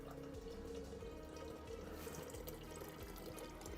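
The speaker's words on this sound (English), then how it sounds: "I mean, filling up my water." Tap water runs into a drinking glass, a soft, faint, continuous splashing and trickle heard close by in a quiet room.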